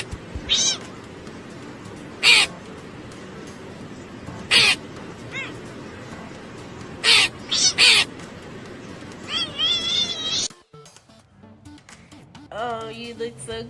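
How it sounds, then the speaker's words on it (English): A cat meows several times in short bright calls spaced a few seconds apart, over a background of singing voices, followed by a longer wavering cry near the end. "If you're happy and you know it, say meow."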